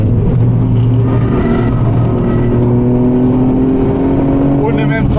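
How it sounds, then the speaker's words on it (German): A car accelerating hard on the Nürburgring circuit, its engine droning loud and close with rising tonal harmonics throughout, a brief higher whine near the end. "Musst du richtig Gas angasen und kämpfen."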